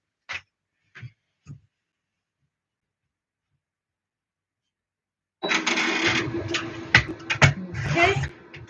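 An embroidery machine stitches a design onto toilet paper, starting after a few soft clicks and a long silence, then running close and loud with a rapid mechanical whir and irregular clacks.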